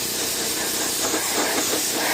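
Dark Fury cleaner sprays in a loud, steady pressurized hiss onto a Mercedes GLC 300 AMG during detailing, close to the mic with slight pulsing and no voices.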